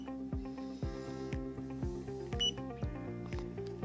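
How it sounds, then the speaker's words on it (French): A YOUNGDO digital laser tape measure with LCD screen emits a repeated series of short electronic beeps, about two per second, close and clear against quiet. "comme vous pouvez entendre, on a un bip continu"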